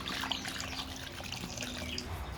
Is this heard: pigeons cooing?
no